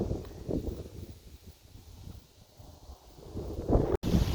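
Gusty wind buffeting the microphone beside Inman Lake sinkhole in Kansas, uneven low rumbling bursts that swell and fade, strongest at the start and near the end.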